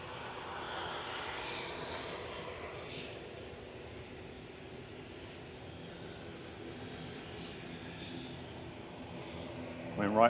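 An airliner taxiing out at Manchester Airport gives a steady, moderately distant engine whine and rumble that holds through the whole stretch, with faint voices nearby and a louder burst right at the end.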